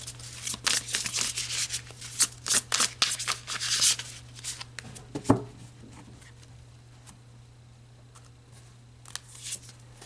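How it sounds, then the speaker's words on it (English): Tarot cards are shuffled by hand in a quick, close series of riffling and slapping strokes for several seconds, then a single sharp tap, followed by near quiet with a few faint card sounds. "let's pull a couple of cards to add on to this 5th energy"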